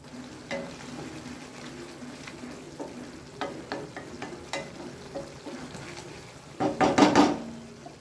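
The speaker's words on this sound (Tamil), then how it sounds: "காய் இப்போ நல்லா கொதிக்க ஆரம்பிச்சிடுச்சு" A drumstick thokku bubbles and sizzles in a pan on the stove, a soft steady simmer with occasional spoon stirs and clinks, swelling into a louder burst of bubbling and scraping near the end.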